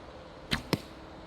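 An arrow is shot from a bow in instinctive archery, giving two sharp, brief whooshing snaps about a fifth of a second apart, close and alone against a quiet background.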